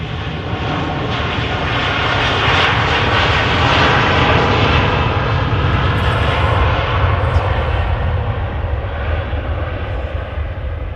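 An Airbus A330 jet takes off from runway 05 left at Manchester Airport, a loud, steady roar of engines that holds strong and broad for the whole stretch with no talk over it.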